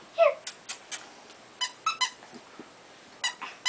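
A squeaky dog toy being played with, giving a string of sharp, high, irregular squeaks close by, some in quick pairs, with quiet gaps between and no talk.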